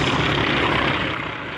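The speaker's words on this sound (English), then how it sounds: "Flying in from the right are two T-28 Trojans." Two T-28 Trojan warbirds fly past at an air show, their loud, close propeller-engine drone filling the moment and easing slightly as they go by.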